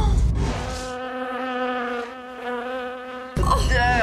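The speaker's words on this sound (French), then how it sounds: "Il y a des mouches dedans, regarde." Flies buzzing inside a filthy, long-uncleaned apartment, a close, steady droning hum lasting the whole stretch, loud and alone without speech.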